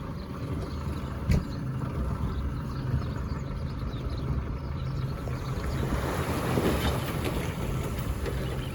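A fishing boat cruises on open sea off Waihau Bay with a continuous rumbling engine drone and a rushing of wind and water. Occasional knocks and slaps from the hull rise above the steady noise.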